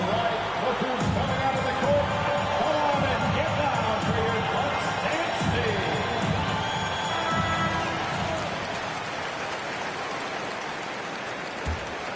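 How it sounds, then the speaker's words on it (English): Crowd cheering in the NBA 2K22 basketball video game during a Bucks vs. Clippers MyCareer game, a steady roaring arena noise that stays loud throughout under broadcast commentary. "the crowd standing to cheer his excellence"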